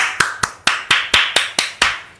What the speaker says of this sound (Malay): Tepukan untuk anda.